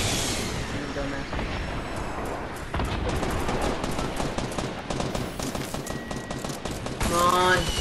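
Fortnite gunfire comes in rapid bursts of sharp, crackling shots that repeat through the stretch and grow denser toward the end. The shots are fairly loud, with a voice talking over them.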